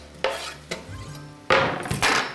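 Onions sizzle in a pan while a spoon stirs them, with sharp scraping strokes and a louder burst of frying toward the end, close and continuous with no voices.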